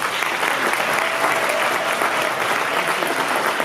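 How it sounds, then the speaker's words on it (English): Loud, continuous audience applause at a graduation ceremony celebrating fathers who completed a ten-week fathering program, an even, dense roar of clapping from a large crowd. "Can we give them a round of applause?"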